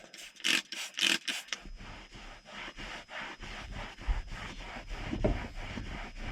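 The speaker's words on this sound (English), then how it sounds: "I'm just kind of gently rubbing on the material here." Gentle rubbing on interior material of an old British car during cleaning: a quick run of about five rhythmic, close scrubbing strokes, then softer, irregular rubbing and light knocks.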